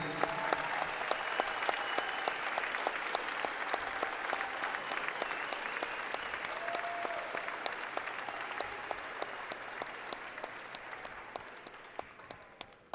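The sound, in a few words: audience applause at a girls' state wrestling championship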